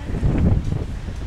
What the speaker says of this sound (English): It's freezing and windy.